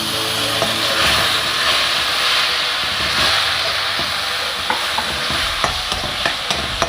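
Ground coconut spice paste fries in a pan for Kerala kappa puzhukku, a dense continuous hiss and sizzle close by, with light stirring taps growing more frequent toward the end.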